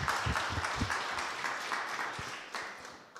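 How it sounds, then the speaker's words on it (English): Audience applause at a science conference after a presentation, a steady crowd clapping with some close, heavy individual claps early on, tapering off toward the end. "Applause."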